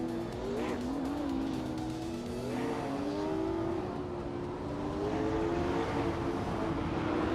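Race cars in a racing video game roar and jostle while overtaking, a continuous engine drone with rising and falling pitch sweeps and tire squeal, loud and close throughout.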